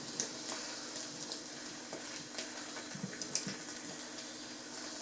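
An egg fries in a pan alongside peas, with a steady soft sizzle and a few faint clicks and taps of utensils nearby.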